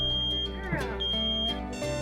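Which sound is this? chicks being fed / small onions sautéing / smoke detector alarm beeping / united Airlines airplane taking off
smoke detector alarm beeping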